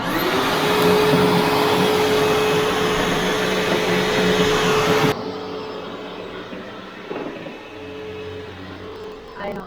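Sanitaire EON Allergen SC5505A upright commercial vacuum cleaner running, a loud steady motor whine with a constant tone that drops in level halfway as the machine is pushed and pulled, a voice briefly audible.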